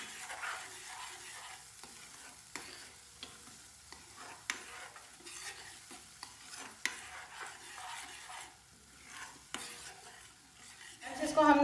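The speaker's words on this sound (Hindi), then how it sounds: "इस मसाले और तेल को आपस में मिक्स कर लें।" Masala and oil stirred in a pan over a low flame for egg curry, a spoon scraping and clinking against the metal in a steady rhythm over a soft, continuous sizzle, close and moderately loud.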